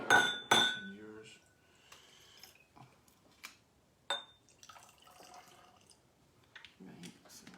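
Whisky poured into tasting glasses for choosing a wedding ceremony dram, with soft clinks of glass and trickling liquid in short bursts between quiet pauses, sharp glassy taps at the start.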